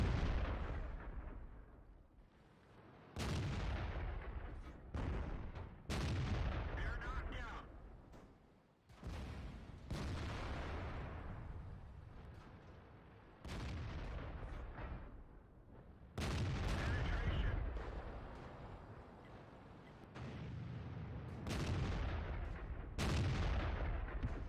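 Tank cannon fire in the World of Tanks game, the VK 45.02 (A) on the Abbey map: heavy booming shots recur every few seconds, with loud broadband blasts mixed among steady battle noise and rumble.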